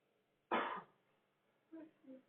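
A single harsh cough bursts out close by in a quiet room, followed moments later by a few soft murmured voice sounds.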